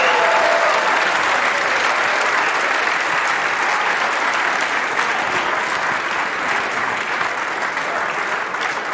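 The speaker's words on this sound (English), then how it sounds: "a round of applause, please, for two of the greats" Loud, sustained applause from a snooker arena crowd at the end of a Champion of Champions final in Bolton, a thick, steady roar of clapping that fills the clip and fades slightly toward the end.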